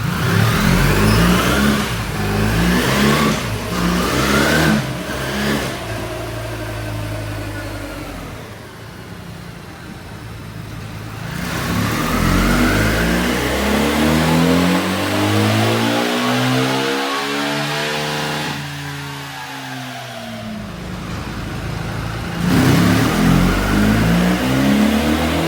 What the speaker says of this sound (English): today I've got the 1300 GS on the dyno, prepped and ready to go